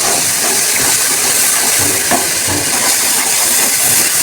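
Sour yogurt hits a hot pot of goat-meat korma and sizzles loudly, a steady close hiss that sounds like escaping steam and holds constant throughout without a pause.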